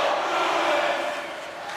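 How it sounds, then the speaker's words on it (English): A loud, sustained roar of an arena crowd fills a tied NHL 24 preseason hockey game in franchise mode. The cheering swells and then eases slightly, with no clear speech on top. "you can feel the energy in this crowd"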